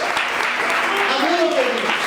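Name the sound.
church congregation applauding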